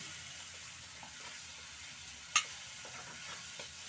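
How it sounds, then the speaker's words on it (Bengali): Spiced water poured into hot oil in a pan sizzles and fries steadily while being stirred, with one sharp clatter partway through; no voices. "মশলার জলটা দিয়ে দিচ্ছি"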